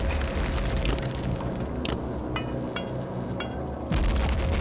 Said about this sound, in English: Okay, so I'll just drop a nade.